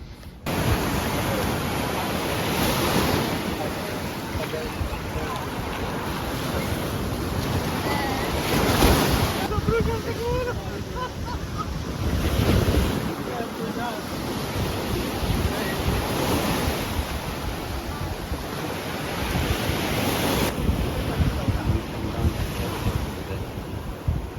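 Waves rolling and breaking on a Sicilian beach, with steady wind buffeting the microphone; surges of surf swell up every few seconds over a constant roar, with no talking.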